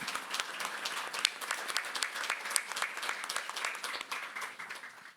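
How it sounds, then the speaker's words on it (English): A conference audience applauds at the close of a panel on modernising power grids, dense sustained clapping from a sizable crowd, steady for several seconds and fading at the end. "I'm going to ask for one round of applause for this great discussion"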